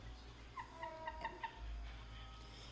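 A collector-grade chicken kept for its fine plumage clucks in a short run of several quick, close notes, soft and alone over a low steady hum.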